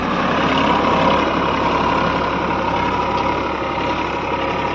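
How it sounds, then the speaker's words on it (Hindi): A Massey Ferguson 245 DI tractor ploughs a field deep, its diesel engine droning steadily and loudly at close range with no talk over it. "काफ़ी गहराई लेके जो है ट्रैक्टर इसको चल रहा।"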